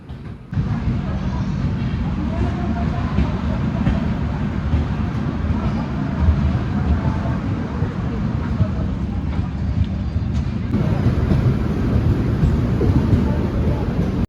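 Betwa Express running, heard from inside a 3AC coach: a steady low rumble and rattle of the moving train, loud and continuous throughout, with a voice talking over it.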